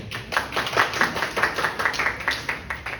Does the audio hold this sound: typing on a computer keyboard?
no